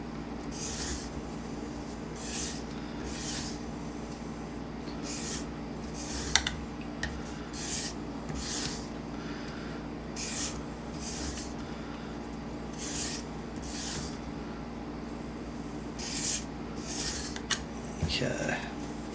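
A knife blade is convex sharpened against an abrasive surface in regular, evenly spaced rasping strokes, each a short scratchy swipe over a low steady hum, close and fairly loud.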